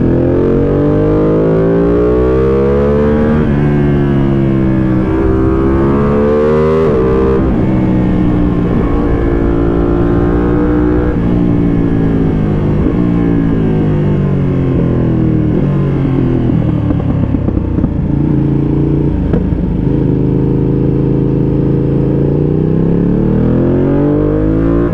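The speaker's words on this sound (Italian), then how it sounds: "ha un motore che ti spinge via in una maniera impressionante" A Ducati Panigale V2 motorcycle engine revs and accelerates loudly and close up, its pitch climbing and falling through repeated surges over a sustained, steady roar with no talking.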